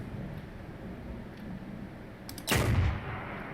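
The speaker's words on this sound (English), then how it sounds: "after I shoot them, after they die, they explode" Enemy bursting in a small explosion after a sniper kill in the Firefall shooter game, a single sharp, loud boom near the end that follows faint clicks over low background ambience.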